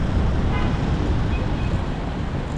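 A constant loud roar of ocean surf at a beach in Da Nang, Vietnam, dense and unbroken, mixed with heavy wind rumble on the microphone.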